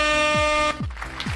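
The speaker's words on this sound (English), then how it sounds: "Give you a little air horn here." An air horn sound effect blares loud and sustained for under a second, followed by short descending tonal swoops and faint background noise.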